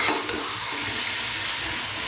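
Meat fries in a pot for pulao, giving a dense, continuous bubbling sizzle with soft stirring texture underneath, close and even throughout.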